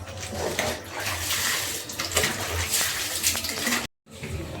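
Whole potatoes and vegetables are washed in plenty of water, with close splashing and sloshing that runs steadily, then cuts out for a moment near the end before resuming.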